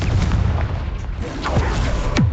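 Confringo fire spell blasts cast against a troll in Hogwarts Legacy, a dense rumbling barrage of booms and cracking bursts, loud and continuous with a couple of sharp whooshing hits near the end.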